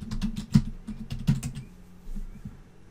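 A short burst of keystrokes on a computer keyboard as a password is typed, close and fairly soft, irregular clicks with a brief pause partway through.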